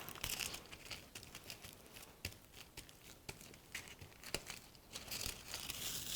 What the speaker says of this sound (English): So this is a rub-on foil.